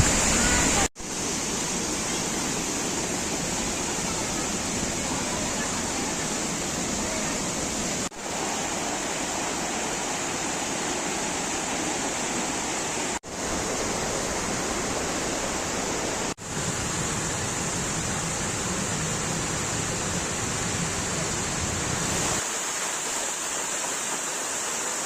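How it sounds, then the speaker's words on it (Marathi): Vasundhara waterfall at Bhandardara in monsoon rain, a loud continuous roar of rushing water close by, steady throughout with a few short breaks, and a voice speaking over it. "धबधबा नुसता पाऊस मित्रांनो खतरनाक सीन आहे"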